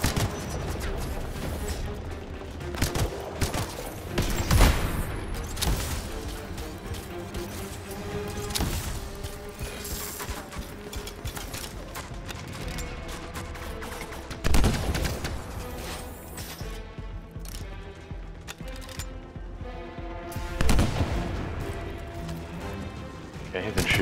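Bursts of gunfire and sharp sniper shots ring out in the video game Anthem, with loud impact peaks scattered over a dense bed of game music and effects, while a player talks over the action.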